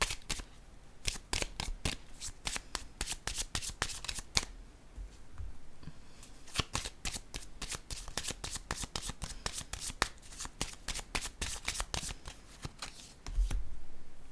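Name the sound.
shuffling a deck of tarot cards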